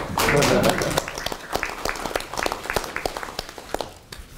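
Scattered clapping at a Democratic Party supreme council meeting, in tribute to reinstated MBC journalists, sharp individual claps ringing out irregularly at moderate volume after an opening burst, with some voices present.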